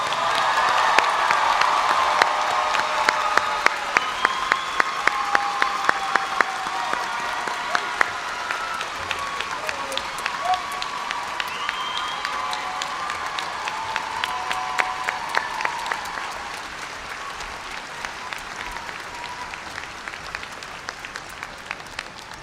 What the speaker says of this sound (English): Please join me in a round of applause for the newest second lieutenants in the Army.